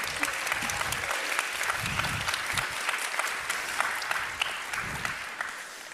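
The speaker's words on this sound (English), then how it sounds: "Big round of applause." Applause from a seated audience welcoming two guests onto a stage, dense steady clapping sustained at an even level and fairly close.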